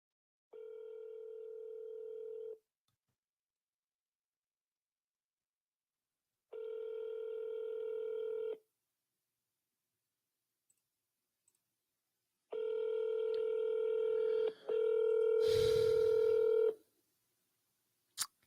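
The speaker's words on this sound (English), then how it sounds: "the dialer that I'm using is CallRail" A phone call placed through the CallRail dialer: steady ringback tones come in long separate bursts, loud and clear, with no talking over them, and a brief click or two near the end.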